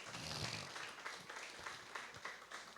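A church audience applauding, faint and distant, a soft continuous patter of many hands with little else over it.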